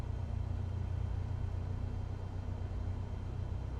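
A steady low engine drone rises slightly as the RPMs come up on a small aircraft in Microsoft Flight Simulator 24, heard as a continuous rumbling hum with no talk.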